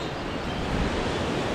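Steady broadband rush of a Himalayan meltwater stream flowing past on the trail from Chhomrong toward Himalaya Base Camp on the Annapurna route, a continuous close roar with no voices.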